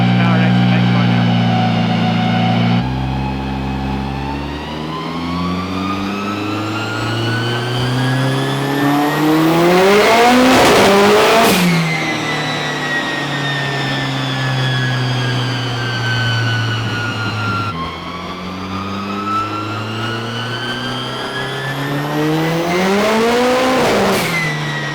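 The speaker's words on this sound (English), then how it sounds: "at this rate it's just doing straight to rev limit of burnouts on the dyno" Turbocharged B-series Honda Civic EG on a dyno, revving hard and repeatedly climbing to the rev limiter, bouncing there loudly before dropping back, with two long sweeping pulls over a steady idle drone.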